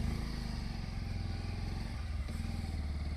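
A motorcycle rides through standing rainwater on a rough, broken road near the Gandikota tunnel. Its engine throbs steadily and loudly up close, with a low pulsing note throughout.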